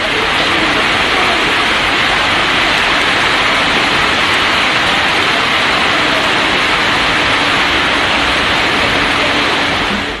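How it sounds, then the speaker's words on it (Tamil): Heavy rain in Kanyakumari district pours down as a dense, loud, unbroken roar of falling water that stays constant throughout. "குமரி மாவட்டத்தில் பரவலாக கனமழை பெய்தது"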